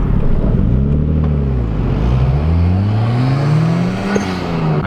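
A tuned VW Jetta 2.0T TSI with methanol injection spools up, its engine note rising and falling in loud sweeping pitch bends as the revs climb, close and continuous with no talk.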